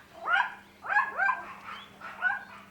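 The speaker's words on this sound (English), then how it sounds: "It's just the neighbour's dog barked, and then Marla's like" A neighbour's dog barks nearby in a short series of four or five sharp, yappy barks with brief gaps, fairly loud and with no talking over it.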